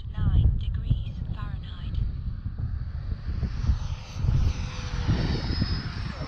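Avios MiG-17 90mm EDF model jet flying past outdoors, a steady whooshing turbine-like whine rising and fading in pitch as it goes up and back down, mixed with wind and low rumble.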